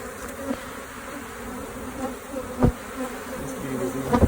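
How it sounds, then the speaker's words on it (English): A swarm of honey bees buzzes around their hive at close range, a dense, continuous hum with individual bees droning louder as they pass near. "Bunch of bees"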